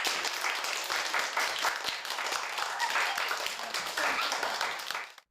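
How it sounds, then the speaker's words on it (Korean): A classroom of schoolboys claps in a dense, sustained round of applause that runs for about five seconds and then cuts off abruptly. "남학생 박수."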